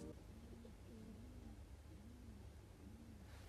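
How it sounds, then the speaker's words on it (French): Pigeons coo inside walls, a soft repeated cooing that rises and falls several times, faint and muffled beneath a steady low hum and hiss. "il y a les pigeons dans les murs"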